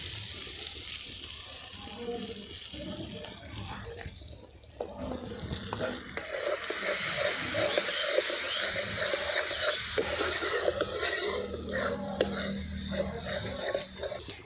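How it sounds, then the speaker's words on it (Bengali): Turmeric and spices frying in oil for a Bengali mutton curry with new potatoes, a steady sizzle and stirring scrape that grows louder midway, with occasional splashes of water. "এইভাবে মশলাটিকে সুন্দর করে তেলের উপরে ভাজতে হবে।"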